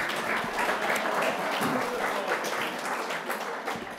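A forum audience claps steadily and fairly loudly, a dense burst of applause lasting a few seconds.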